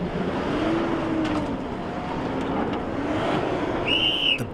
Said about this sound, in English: here comes the Triton. And it makes it through the first section in the most impressive fashion.